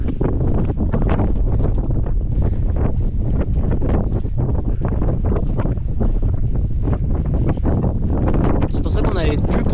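Strong wind near the sea buffets the microphone in a continuous loud roar with gusty surges throughout, and a voice speaks beneath it.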